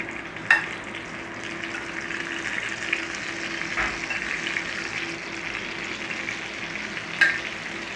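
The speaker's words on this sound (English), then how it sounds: "I've got a nice little cook on those sausages. Let's turn them back again." Sausages fry in a pan with a steady, moderate sizzle and crackle throughout, broken by a couple of sharp clicks as they are turned. No one speaks.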